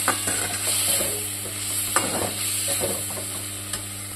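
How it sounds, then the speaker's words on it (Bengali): Spices sizzle as they are sautéed in a pan, a steady frying hiss broken by intermittent scraping stirs. A constant low mechanical hum and some clicking sounds run underneath. "মশলা কষানো চলছে।"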